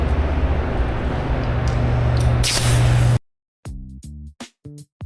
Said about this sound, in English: I'm getting ready to spray.